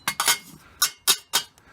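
Metal pans clinking as they are handled, several sharp bright clanks in quick succession with short gaps between them, close and distinct against near silence.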